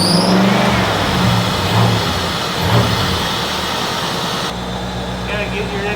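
A Geo car engine runs with its air intake removed, giving a steady, near, mid-pitched drone with uneven intake noise. People talk over the engine throughout.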